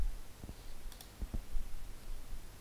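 A computer mouse gives a few sharp, faint clicks, two soft pairs with a brighter double tick between them, against a quiet room background.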